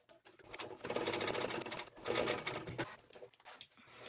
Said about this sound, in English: stitch down this side here with the recommended seam allowance